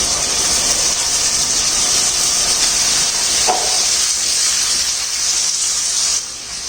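Mixed vegetables, including okra, beans, broad beans, raw banana and potato, sautéing in a pan for vegetable mandi, heard as a steady loud hiss and sizzle with no talk.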